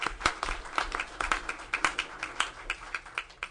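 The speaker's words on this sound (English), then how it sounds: "let's give him a round of applause" A small audience claps at a study session honouring students, with sparse, uneven hand claps that rise and fall in loose bursts, fairly faint and slightly distant.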